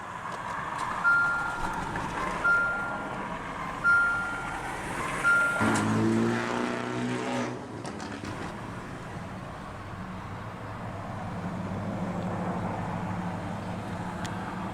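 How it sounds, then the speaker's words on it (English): A 2017 Jeep Renegade with the 2.4-litre engine, push-button start: a few chimes sound, then the starter cranks and the engine catches with a loud flare before settling into a steady, quieter idle heard close from inside the cabin. "let's go ahead and start the engine."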